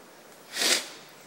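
A single short sniffle through the nose from someone with a cold, quick and close, alone in a quiet room.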